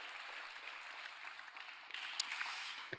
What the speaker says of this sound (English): We can congratulate her and give her a round of applause.